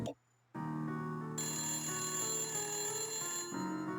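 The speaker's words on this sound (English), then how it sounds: "Oh, the phone." In the Nancy Drew game Message in a Haunted Mansion, a telephone rings with a loud, tonal electronic trill that follows a brief silence, carrying on steadily while a player's voice briefly sounds over it.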